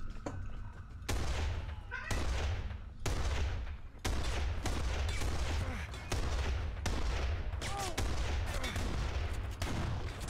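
Bolt-action sniper rifle shots ring out in Kane & Lynch: Dead Men, several loud sharp blasts in irregular succession with brief gaps between them and game noise continuing underneath.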